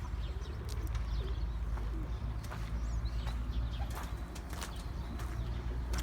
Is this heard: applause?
no